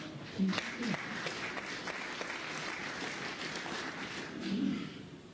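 Spectators at a World Championship snooker match between Judd Trump and Zhou Yuelong applaud politely, a soft, even patter of clapping across the arena with a commentator speaking over it.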